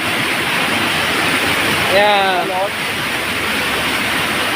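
Strong storm-swollen river water roars as floodwater in a flood-prone area, a loud, continuous rushing torrent heard close by. A brief spoken word cuts in over it midway.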